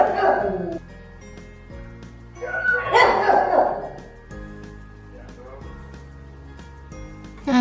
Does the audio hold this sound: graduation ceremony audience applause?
no